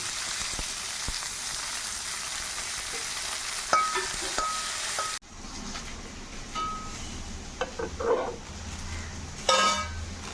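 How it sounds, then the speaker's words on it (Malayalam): Ginger, garlic and curry leaves sautéing in a pan for masala dosa filling, a steady close sizzle with occasional stirring scrapes and clinks, the frying noise dropping in level midway before continuing. "ഇതിലേക്ക് ഇഞ്ചി ഇടണേ, വെളുത്തുള്ളി, വേപ്പില ഞാൻ വഴറ്റാൻ പോകുന്നു."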